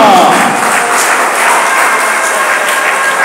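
A church congregation applauding together during a sermon, dense loud continuous clapping that fills the whole stretch without letting up.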